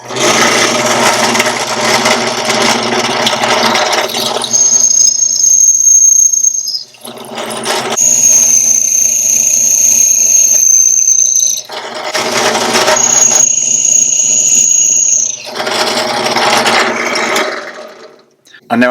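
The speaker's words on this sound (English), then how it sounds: "finally ready to actually start drilling right the way through my metal" A Harbor Freight bench drill press bores through metal in three separate runs, each a loud grinding whir with a high-pitched squeal. Quieter pauses fall between the runs.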